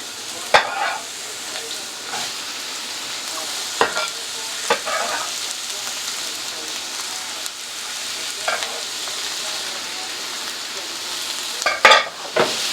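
Onions and peppers sauté in olive oil in a skillet, giving a steady soft sizzle broken by a few sharp clanks and scrapes of stirring, with no voices.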